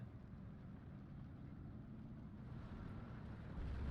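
An ISU self-propelled gun in a World War II strategy game rumbles along on its tracks, a low, steady engine drone with a hint of wind that swells slightly toward the end; no voices.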